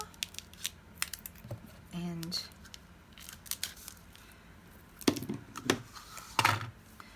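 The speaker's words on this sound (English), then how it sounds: "I'm just going to get my scissors in here" Scattered sharp snips and clicks of scissors cutting twine, in short irregular bursts alongside a brief spoken word and some rustling.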